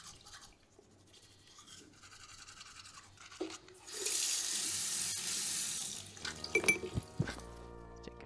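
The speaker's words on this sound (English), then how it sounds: "Should you brush your teeth?" In the video game Look Outside, a faucet runs loudly into a sink while teeth are brushed with scrubbing strokes, followed by water splashes and clinks.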